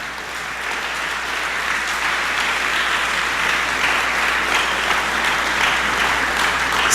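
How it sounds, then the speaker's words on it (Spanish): A congregation at a Spanish-language church service applauds loudly and steadily, a thick wash of clapping that holds evenly throughout. "dale un aplauso a Jesús"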